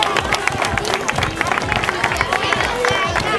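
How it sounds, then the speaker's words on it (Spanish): A crowd applauds and cheers for Ismael at a youth basketball club awards ceremony, dense overlapping clapping mixed with crowd babble and excited voices, lively and close throughout. "Un aplauso fuerte para Ismael."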